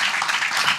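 A short snatch of audience applause for guests at an evening gathering, a close, even patter of many hands lasting under a second.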